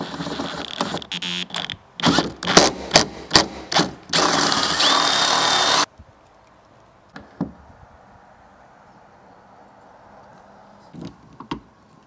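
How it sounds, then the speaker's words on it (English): Rivet nut being set into a Land Rover Defender 110 door: a burst of sharp metallic clicks and knocks, then a steady loud whirring tool run for about two seconds, followed by quiet with a few faint taps. "so I'm gonna do a riv nut."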